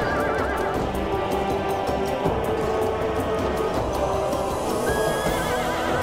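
Horses whinny and neigh repeatedly over clopping hooves and battlefield din in the medieval strategy game Medieval II: Total War, the calls loud and recurring against a busy background.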